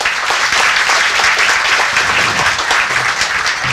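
A fundraiser audience breaks into loud, sustained applause, a dense wash of many hands clapping together throughout.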